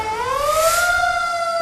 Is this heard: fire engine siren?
yes